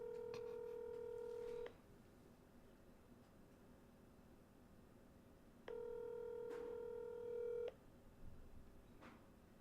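Two long ringback tones from an outgoing telephone call, each lasting about two seconds with a pause of roughly four seconds between them, sound clearly over a quiet background hiss.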